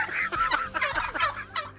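A wild turkey gobbles loudly and close, a rapid warbling burst of throaty notes repeating across about two seconds.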